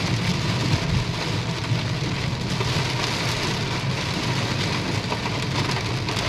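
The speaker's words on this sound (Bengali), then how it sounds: "এত বৃষ্টি হচ্ছে কিছু দেখতেই পাওয়া যাচ্ছে না সামনে, এত জোরে জোরে বৃষ্টি হচ্ছে।" Heavy rain pouring down steadily during a long road journey, a dense, loud, unbroken hiss of drops drumming on surfaces, with no voices.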